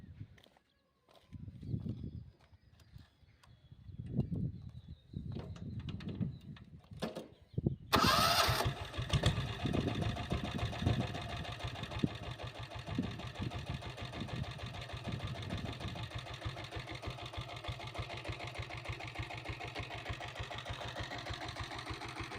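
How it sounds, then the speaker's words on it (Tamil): Diesel Royal Enfield Bullet motorcycle, self-started: a few quiet mechanical handling sounds, then the electric starter catches and the single-cylinder engine settles into a steady, close, rapid thumping idle. "வாங்க இப்போ வண்டி ஸ்டார்ட் பண்ணி பார்க்கலாம் வாங்க"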